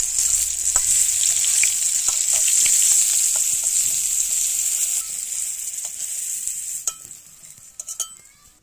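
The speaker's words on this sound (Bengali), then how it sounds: "পটলগুলো লাল লাল করে ভাজা হয়ে গেছে" Loud, steady sizzling of pointed gourd (potol) frying in hot oil until reddish, with occasional clinks of a utensil stirring the pan near the end.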